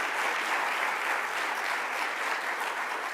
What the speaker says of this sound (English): let's give another round of applause to our district attorney